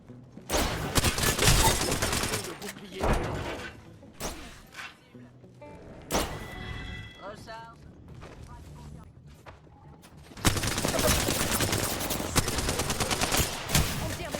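Gunfire in the video game Apex Legends, loud bursts of rapid automatic shots separated by pauses with scattered single cracks, a long sustained barrage at the end, and a player talking over the fighting.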